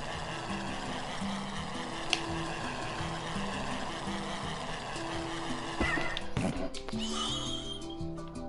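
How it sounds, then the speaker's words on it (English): A baby horse in Minecraft gives a neighing whinny near the end, over a steady game backdrop with soft musical tones and scattered clicks. "Look at that baby horse."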